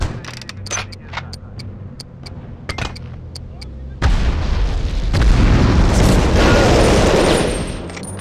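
In the PS1 game Medal of Honor: Underground, a loud, sustained explosive rumble of detonating charges bursts in, following a stretch of scattered sharp clicks and low hum, then gradually fades away.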